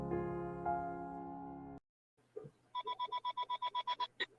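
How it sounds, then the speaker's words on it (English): Telephone ringing, a rapid series of about a dozen electronic chirping pulses in quick succession, fairly faint, following a stretch of musical tones and a brief silence. "course the phone rings now."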